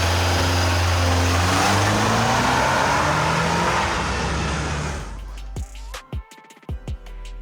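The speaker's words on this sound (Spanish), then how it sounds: "vamos a hacer un launch control para que vean la aceleración y cómo ruge el motor cuando aceleras a fondo" A Toyota Land Cruiser L250 engine roars loudly under full launch-control acceleration, a sustained rising growl that cuts off abruptly, followed by a few sharp clicks and knocks.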